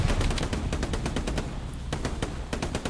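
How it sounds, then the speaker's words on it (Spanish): Rapid machine-gun bursts fired by a tank in the WWII game Hell Let Loose, loud and close, with dense repeated shots hammering steadily for several seconds without pause. "le está disparando un tanque por una ametralladora"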